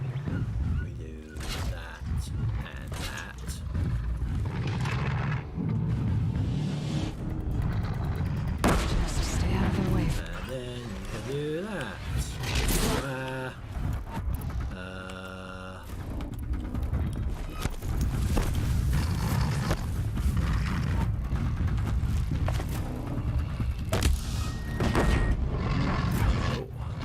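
Heavy booms and gunfire pound repeatedly through Horizon Zero Dawn combat, mixed with mechanical machine noises and a voice talking over the din.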